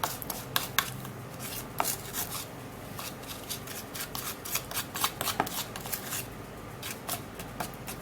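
A thick homemade paste is stirred and mixed in a container, with rapid scraping and rubbing strokes in an uneven rhythm, close and fairly loud, no talking.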